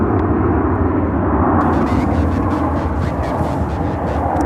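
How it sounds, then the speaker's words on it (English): Boeing 737-800 airliner at Charlotte-Douglas airport, a loud steady engine roar with broad rushing noise holding evenly throughout, close and continuous. "next up we have a Boeing 737-800"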